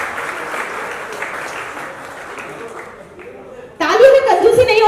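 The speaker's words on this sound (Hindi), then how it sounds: "तालियों में कंजूसी नहीं होनी" Audience applause at a smartphone launch event honoring a guest, a steady mid-level patter of clapping that thins toward the end before voices and music-like sound come in loudly.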